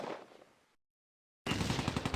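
Sniper gunfire in the Close Combat war game set in Operation Market Garden: a burst of sharp, rapid gunfire, a stretch of silence, then another loud rattling volley close by.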